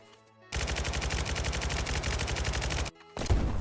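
A sustained burst of rapid, loud crackling detonations from an explosion in the video game Roblox Jailbreak, like continuous gunfire, cuts off abruptly and then resumes briefly.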